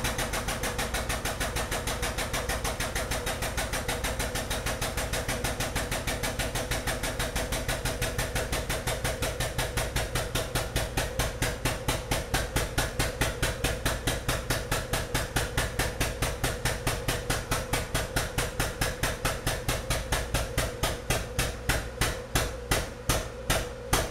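Small manual benchtop plastic injection molding machine injecting, a dense, rapid mechanical rattle of even clicks that grows sharper and more distinct toward the end, loud and steady with no talk.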